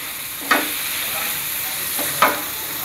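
Homemade sambal frying in a pan, a continuous close hiss and sizzle broken by two sharp bursts of spattering, with no voices over it.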